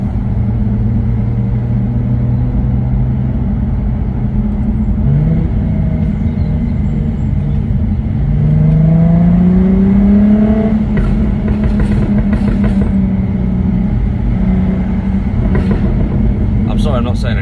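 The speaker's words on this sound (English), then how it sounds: "I'm just letting the car do the talking for a change." A car's engine hums steadily while driving, then swells as it accelerates through the middle, with a rising tone and heavier rumble before settling back, heard alone without talk.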